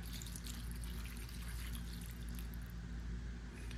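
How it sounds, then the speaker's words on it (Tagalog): Water from a four-cup measure poured into a cooking pot for boiling canton and bihon noodles, a steady, close rushing splash that runs unbroken from start to finish. "bali 4 cups na tubig ang ilalagay"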